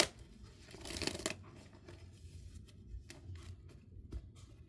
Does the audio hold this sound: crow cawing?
no